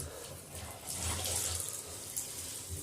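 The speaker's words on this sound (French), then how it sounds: "je prends de l'eau chaude d'ici" Hot water runs from a shower in a steady close rush that swells briefly in the middle, with no voices over it.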